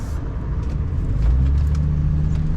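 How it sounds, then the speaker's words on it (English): Road traffic rolls past an RV on an Indiana road, a continuous close rumble of tyres and engines that swells slightly midway, with no talk. "a lot of traffic here"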